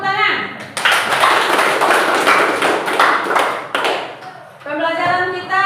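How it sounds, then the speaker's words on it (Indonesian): Hands clapping in short applause, a bright flurry of claps starting abruptly and fading, framed by a voice speaking before and after. "Tepuk tangan."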